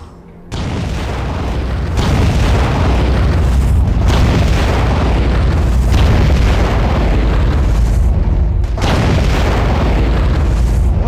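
Loud, deep underwater torpedo explosions in the Aquanox video game, a sustained rumbling roar after a short quiet start, with several heavy booming surges one after another and no talk.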